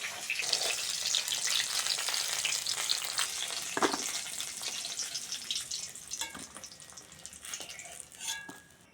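Fish roe sputters and sizzles in hot oil, a loud, dense crackle with sharp pops, brief stirring scrapes and a quieter stretch near the end, for a jeera-paste puti fish curry with green banana.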